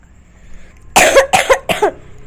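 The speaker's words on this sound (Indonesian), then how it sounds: "Batuk." Three quick, harsh coughs in a row, close and loud, after a moment of quiet background noise.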